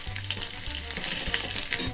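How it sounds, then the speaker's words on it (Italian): Pork ribs sizzle steadily on a grill pan, a loud, close, continuous frying crackle with no voices. "Metto la fila delle costolette nella bistecchiera"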